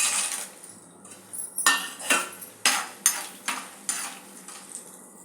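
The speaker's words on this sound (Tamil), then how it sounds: "இப்போ இந்த சுண்டை வத்தலை வறுத்து எடுத்துக்கலாம்." Dried turkey berries (sundakkai vathal) frying in hot oil in a pan, heard as a series of sharp sizzling bursts with metallic scraping and stirring clinks against the pan, about eight distinct pulses in quick rhythm.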